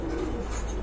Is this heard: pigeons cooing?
yes